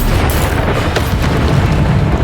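Bombarda spell blasts from Hogwarts Legacy gameplay form a dense, continuous rumble of booming impacts, loud and close, with sharper bursts landing around the middle.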